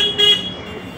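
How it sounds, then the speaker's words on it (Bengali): On a Kolkata street during a motorbike ride, a car sounds one short, loud honk over steady road noise. "গাড়ি হর্ন মারছে তো সাইড দিয়ে দিলাম তাই জন্য"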